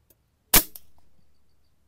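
A WCO PCP air rifle with a locally made receiver fires a single pellet, giving one sharp, close crack followed by a short fading tail.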